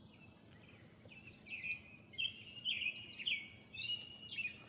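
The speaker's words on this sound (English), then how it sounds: "the birds are singing to us" Several birds chirp and sing in short, bright phrases outdoors during a walk with a dog, moderately near and fairly faint, with no talking.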